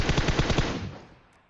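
M4 rifle in the mobile battle game PUBG Mobile firing a loud rapid burst of about six shots, then the echo tails off into near quiet.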